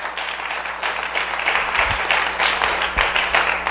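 Church congregation applauding strongly, a continuous roar of many clapping hands filling the room, with a couple of low thumps underneath.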